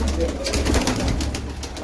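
Pigeons of old kept breeds coo steadily and close by through a busy, dense background, with a voice faintly present alongside.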